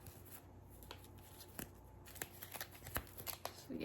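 Small game cards from the board game Yonder handled up close, soft papery shuffles and light flicks, with crisper snaps toward the end, faint and without talk.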